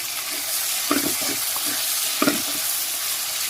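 Chopped tomatoes and salt are stirred in a pan of sizzling oil: a steady bright hiss carries a few scraping spatula strokes, close and fairly loud.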